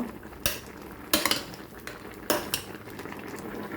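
Turmeric powder stirred into a Jaffna-style cassava milk curry, a spoon scraping and knocking against the pot in three or four distinct bursts over a soft simmering background.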